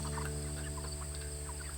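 Chickens cluck softly inside a chicken tractor out in the field, faint scattered calls set against a strong, steady mechanical hum that runs without a break.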